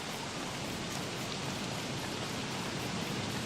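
Steady video game rain from Don't Starve pours down in an even, continuous hiss, dense and unbroken, with no voices.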